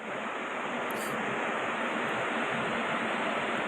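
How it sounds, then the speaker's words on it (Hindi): Floodwater from a Sikkim cloudburst surges over a road in swollen waves, making a loud, unbroken roar of rushing water that fills the whole stretch without pause. "सड़क के ऊपर तक ये पानी आ चुका है और लहरें कितनी ज्यादा उफनाई हुई हैं"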